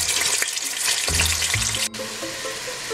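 Meat frying in a pan for a riz gras dish, a dense close hiss of sizzling oil with a few low tonal squeaks and a brief clunk near the end, heard alone without speech.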